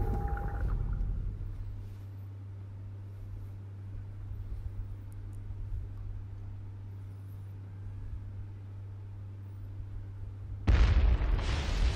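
In Resident Evil Revelations, a low, steady engine-like drone hums for several seconds, then a sudden loud explosive blast bursts in near the end.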